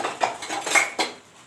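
Dishes and mugs clink against each other while being washed by hand in a home kitchen, a quick run of light, bright clatters and knocks over about a second and a half, close and fairly loud with no talking.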